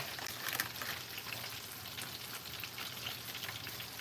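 Fish fries in hot oil with a steady, soft sizzle that hisses evenly and fairly quietly without a break.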